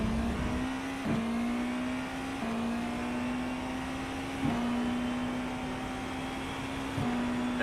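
A race car engine in the iRacing sim drones at a steady high pitch, with brief dips and jumps at each gear change, running continuously and up close with no talk.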